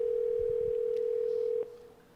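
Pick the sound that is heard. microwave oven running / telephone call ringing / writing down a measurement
telephone call ringing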